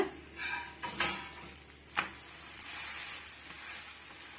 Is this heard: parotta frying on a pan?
yes